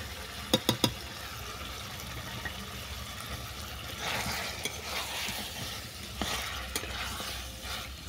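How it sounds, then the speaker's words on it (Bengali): Chicken and chicken masala are stirred in a pan over a constant oily sizzle, with a few sharp spoon scrapes early on and softer scraping and splashy stirring later. "চিকেন মশলাটাকে ভালো করে মিশিয়ে নিলাম"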